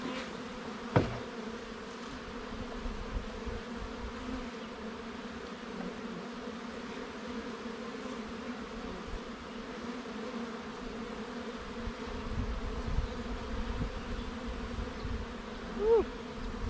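Honey bees buzz steadily inside an opened five-frame hive during an inspection, a continuous close drone that swells slightly near the end.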